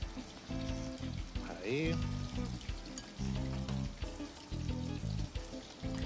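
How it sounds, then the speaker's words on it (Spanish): Breaded bonito fries in hot oil with a steady crackling sizzle that swells and eases in bursts as pieces go in, while a person speaks briefly over it. "O sea, hay dos tipos de fritura, ¿no? La parte de la tempura y en este caso que es el empanado"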